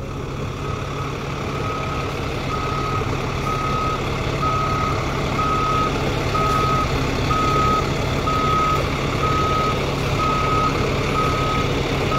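A truck idles low and steady while backing a trailer in a straight line. Its reverse alarm beeps in an even, repeating rhythm over the engine rumble, and no one speaks.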